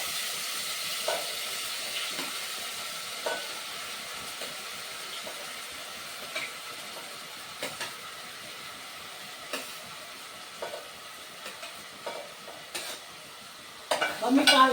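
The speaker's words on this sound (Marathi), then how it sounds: "आणि आपला हा कांदा आहे तो टाकून घ्यायचा. कांदा थोडा लाल भाजून द्यायचा." Chopped onion frying in hot oil with four cardamom pods for spicy prawn rice, a soft steady sizzle with periodic scrapes and stirs, then louder clattering at the end.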